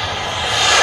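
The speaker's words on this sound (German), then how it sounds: "21 Kilo fliegende Turbine. Tolles Flugzeug, das ist unglaublich." A 21-kilogram turbine-powered model airplane flies past at a model flying show, its loud broadband jet roar rising steadily and close by, with no voices.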